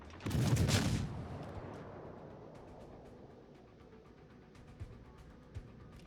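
A heavy naval gun salvo in the online warship game World of Warships fires from a battleship near a smoke screen: one loud booming blast, then a long rumbling decay, with a couple of faint distant thuds later.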